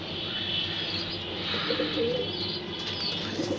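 A domestic pigeon in a loft coos in soft, low, rolling phrases close by, over a steady background hiss, with no talking.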